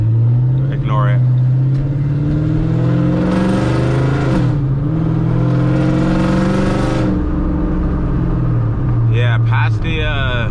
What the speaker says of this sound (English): Mustang's loud as hell. This thing is super loud.